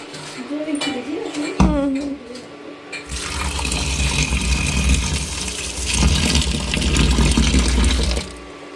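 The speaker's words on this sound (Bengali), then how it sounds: "এটা তাহলে জলে ভিজি ধুয়ে দিই" Potatoes and pumpkin leaves washed in a sink, with water gushing steadily from a tap for most of the clip and a voice talking briefly at the start.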